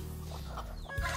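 A Dong Tao chicken, a heavy farm hen, clucks close by in short soft bursts against steady farmyard background noise, with no talk.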